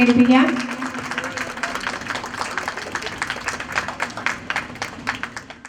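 After a brief voice, a crowd at a foundation-stone laying ceremony in Muvattupuzha breaks into steady clapping that carries on for several seconds before gradually thinning out.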